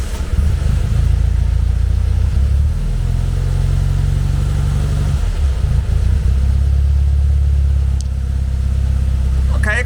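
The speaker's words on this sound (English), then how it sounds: "it started on the first turn of the key" Fuel-injected classic VW Beetle engine, hot, firing up and settling into a loud, close, steady low rumbling idle with slight unevenness, a fan whirring faintly in the background.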